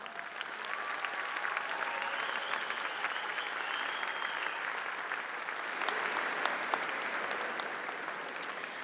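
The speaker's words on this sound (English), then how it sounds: "I think we should give them a round of applause." Sustained applause from a large convocation audience honoring engineering and architectural science graduates, a steady dense wash of clapping lasting throughout with faint crowd murmur, moderately distant.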